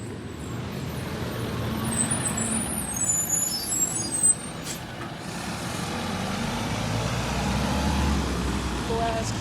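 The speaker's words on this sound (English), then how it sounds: "Big ass bus." Large bus with air brakes on a street, a loud continuous engine rumble with a brief brake hiss burst midway, traffic noise around it and people talking nearby.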